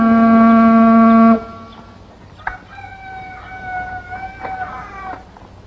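A rooster crows once, loud and close, in a long sustained call that cuts off sharply, followed by quieter chicken sounds in the background.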